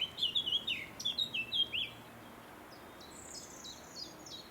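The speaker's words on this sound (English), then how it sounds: "Fantastic for birdsong." Several short bird chirps and whistled song phrases in the fens by the River Ouse, Cambridgeshire, moderately near at first, then fainter calls further off, over quiet outdoor background.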